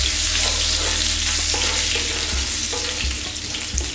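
Cumin seeds, dried red chili and fresh curry leaves sizzle loudly in hot oil for an Indian fish curry, a dense crackling hiss close by with a few light knocks.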